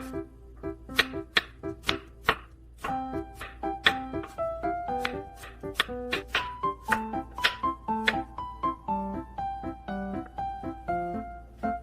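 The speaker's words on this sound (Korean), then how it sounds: "마늘을 얇게 썰어요." A knife thinly slices garlic for garlic fried rice, making crisp, evenly paced taps on a cutting board over soft melodic music throughout.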